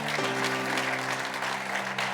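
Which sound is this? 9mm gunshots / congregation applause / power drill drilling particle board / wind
congregation applause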